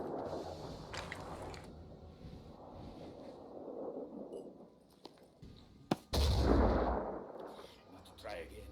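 Gunfire in the turn-based video game Phoenix Point: a quiet low rumble, then a sharp crack followed by a heavy, booming burst that rolls on for a couple of seconds.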